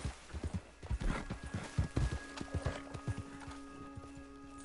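Horse hooves from Red Dead Redemption 2 clop in a quick uneven rhythm, moderately close, with faint game sounds in the background.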